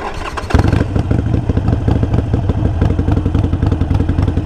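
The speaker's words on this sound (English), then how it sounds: "then you're going to hit the starter or the ignition" A motorcycle engine cranks on the starter and catches after about half a second, then settles into a loud, steady, throbbing idle close by.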